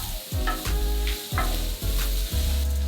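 Spinach sizzles loudly in a hot pan and is stirred in repeated strokes, each pass bringing a burst of crackling over a constant frying hiss, with no talking.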